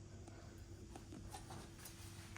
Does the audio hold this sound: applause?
no